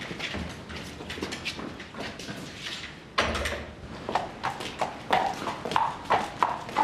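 A horse clip-clops along a hillside, its hooves close and steady, growing louder and more distinct toward the end, with no speech over it.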